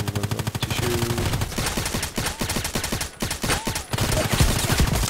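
Rapid automatic gunfire in the shooter game Contract Wars, bursts of sharp shots rattling loud and close over continuous game noise, with no talking.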